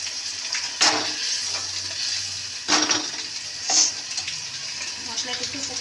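Parshe fish frying in a bubbling spice paste for macher jhal gives a continuous sizzle with occasional louder spits and crackles, steady throughout.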